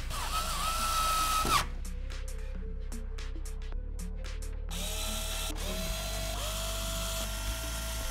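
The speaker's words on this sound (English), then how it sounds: "screw the frame back in" A screwdriver fastens the frame back into a Segotep Raynor Tower T5 PC case, giving a steady mechanical whine broken by a rapid series of clicking, ratcheting bursts partway through.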